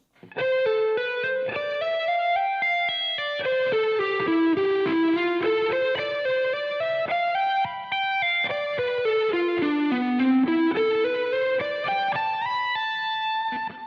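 A distorted electric guitar plays a flowing hybrid-picking and legato lick of rising and falling notes at slower speed, steady and loud for the full stretch, with no voices.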